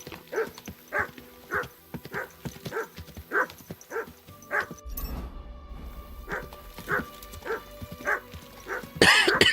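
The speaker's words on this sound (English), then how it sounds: "What you barking about?" Dog barking in the video game Kingdom Come Deliverance 2, a run of regular, evenly spaced barks at close range, briefly interrupted midway by a low rumbling noise before the barking resumes, with no talking.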